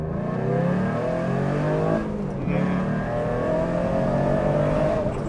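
A powerful car engine roars and revs up, pitch climbing, dips briefly, then surges again, loud and steady from inside the car.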